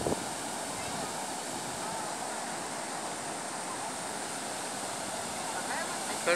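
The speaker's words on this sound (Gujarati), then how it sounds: "કેટલું લીલકા નદીમાં પાણી આવ્યું છે વરસાદનું છે" River water rushing steadily after rain at the Lilka river dam, a broad continuous roar of flowing water held at an even level throughout, with no talk heard.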